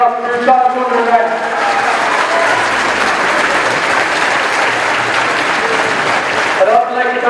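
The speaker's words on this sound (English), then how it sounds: "A round of applause for Mark Nolan and Jerry Sotts for your staunch Dunderry men." Loud, sustained crowd applause at a hurling final between Dunderry and Rathmolyon, close and steady, with a speaker's voice briefly heard at the start and end.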